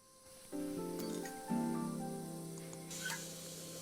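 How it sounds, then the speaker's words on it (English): Steam escapes from broken pipes in the video game Assemble With Care. A steady hiss begins and swells, set against sustained tonal music layers, and a brighter spray surge rises near the end. "I'll need to connect all the pipes correctly to stop the steam pouring out."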